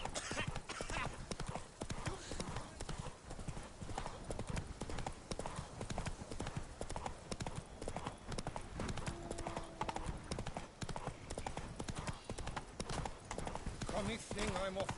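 Horse hooves clip-clopping in The Witcher 3 on PS5, a steady rhythmic trot running throughout under game music and voices.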